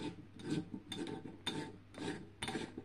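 A 70 watt high pressure sodium tubular bulb with a silver stainless steel screw cap being turned into its socket, giving repeated close, soft rasping scrapes in short bursts.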